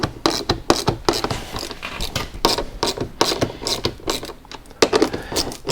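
Mud flap bolts are tightened into plastic on a 2021 Ford Bronco Sasquatch, giving a busy, close run of ratcheting clicks and scraping mechanical taps, steady and unbroken for several seconds with no talking.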